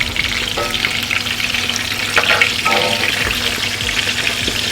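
Chapli kababs fry in a pan with a loud, continuous sizzle and crackle, with occasional brief scraping or stirring sounds over the steady hiss.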